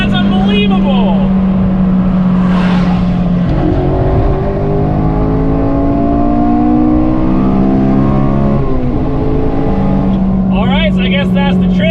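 A Honda Civic Si FA5 with a Skunk2 cold air intake revs hard, its engine note climbing and falling through repeated loud sweeps, heard close from inside the car over steady road noise.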